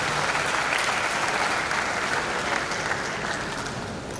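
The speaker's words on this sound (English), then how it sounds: "A round of applause for the Honourable Speaker." Sustained applause from an audience at a university inaugural lecture, dense and loud throughout, gently tapering toward the end.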